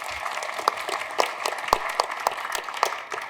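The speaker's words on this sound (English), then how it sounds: "Let's give her a round of applause." An audience at a talk on Indigenous perspectives in the music industry, held at the Forks, gives a round of applause after a performance: steady, fairly soft clapping from a small crowd, with a few sharper individual claps.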